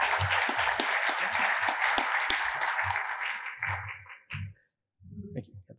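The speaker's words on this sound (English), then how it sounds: "So please, round of applause for Dr." An audience at a Heartland Institute talk claps for about four seconds in a dense, fairly loud burst that thins and stops, followed by someone speaking.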